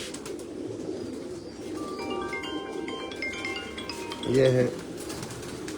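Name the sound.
UAE pigeons cooing on a rooftop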